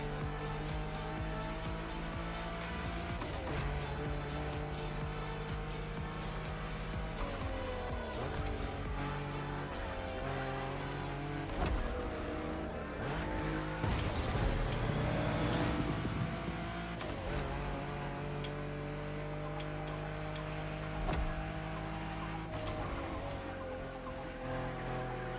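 Race cars in a racing video game roar steadily, engine revs rising and falling with shifting pitch and occasional tire squeal, loud and continuous throughout with no talking.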